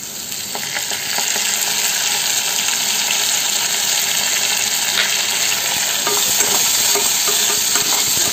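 Ground mustard and poppy seed paste fries with garlic in a hot pan, a close, steady sizzle that grows slightly louder after the first second, with frequent stirring scrapes.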